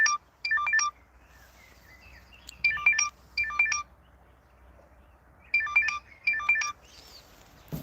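A telephone ringtone chirps in short repeated bursts, pairs of bright electronic trills separated by quiet gaps, loud and close with no voices.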